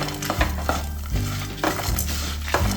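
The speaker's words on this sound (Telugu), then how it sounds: "ఎండుమిరపకాయలు, ఇలాగ ఫ్రై అవ్వాలండి" Dry red chillies frying in a pan with oil, a loud close sizzle broken by repeated scraping stirs of a spatula against the metal at a steady rhythm.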